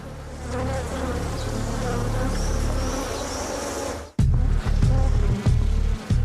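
A dense, steady buzzing of many bees swarming close by, with loud low rumbling bursts and thumps joining partway through.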